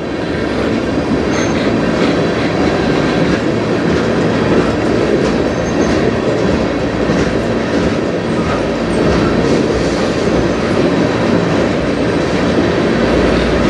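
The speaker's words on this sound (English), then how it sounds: "Definitely the snail train." Slow-moving train passing on the Strathroy Subdivision by Sarnia, a loud, close and unbroken roll of wagons with steady clacking over rail joints and occasional wheel squeal.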